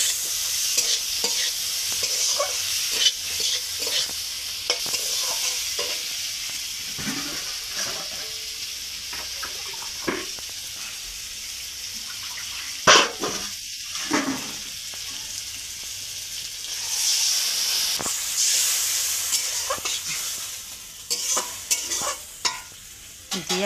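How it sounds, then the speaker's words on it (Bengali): Fried potato and kakrol are stirred in a hot pan with repeated spatula scrapes over a steady sizzle, then water is poured in and the pan hisses and bubbles up loudly for a few seconds. "আলু আর কাঁকরোলটা যে ভেজে রেখেছিলাম ওইটা দিয়ে দেবো, দিয়ে 2-4 বার নেড়েই জল ঢেলে দেবো"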